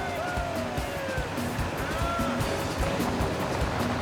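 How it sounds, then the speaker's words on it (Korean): A huge waterfall in the distance and a turbulent river rushing nearby, a steady roar of churning water with some faint tonal sweeps over it. "멀리 폭포가 떨어지는 게 보인다."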